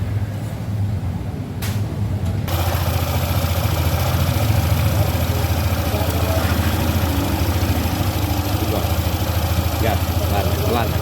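Yamaha Nmax scooter engine idling steadily after a service, a continuous low throbbing hum close by that settles into an even drone after a brief quieter opening, with people talking over it.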